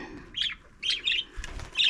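Several short bright bird chirps in quick bursts, fairly close, over a quiet background.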